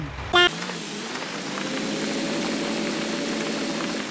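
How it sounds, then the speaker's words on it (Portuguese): Tractor engine in the Farming Simulator 19 video game, a steady low idling drone that runs continuously after a brief chirp at the start, with no talking. "Entra um trator."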